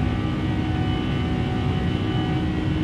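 An airliner climbing past 3,000 feet as a notch of flaps is retracted, its broad steady engine roar and airflow rushing loud and unbroken from inside the cabin.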